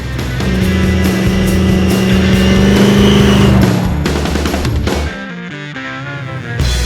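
A 1971 Holden Monaro GTS two-door with an 800 hp big block Chevy engine accelerates loudly, a strong steady drone that climbs before abruptly dropping away and then briefly picking up again.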